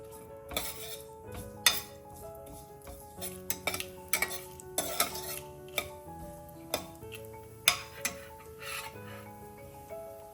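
Mustard and cumin seeds stirred in a pan with a spoon, producing faint, close scraping and clinking taps in an irregular rhythm against a quiet background.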